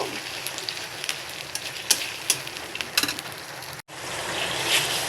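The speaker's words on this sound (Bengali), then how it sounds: "এখন আমি এই আদা রসুন পেস্ট আর পেঁয়াজ এগুলো সবই একটু কষিয়ে নিব" Ginger garlic paste and onion frying in a pan for a ridge gourd and lentil dish: a steady sizzle broken by sharp scraping clicks of stirring, a brief dropout, then renewed frying.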